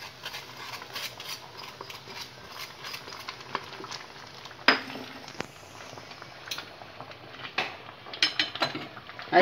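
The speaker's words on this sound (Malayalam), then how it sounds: "നന്നായി വെള്ളം തിളച്ച ശേഷം റവ കുറേശ്ശെയായിട്ട് ഇട്ട് ഇളക്കുക." Semolina is stirred little by little into boiling water in a pot for pineapple kesari, with a spoon scraping and clinking against the metal in irregular light taps over a faint bubbling background.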